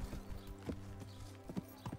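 A horse's hooves clip-clop in Kingdom Come Deliverance, a quick series of hollow thuds at walking pace, fairly faint, over a low steady game hum.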